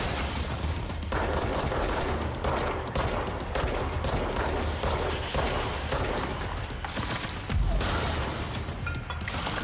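Dense, continuous gunfire in a video game, with rapid overlapping shots and mechanical clanks and creaks, loud and sustained for the whole stretch.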